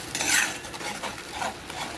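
A spoon scrapes and stirs tomato and onion gravy as it sautés in a pan for dal fry, with a soft sizzle beneath. The sound is close, steady and low in volume.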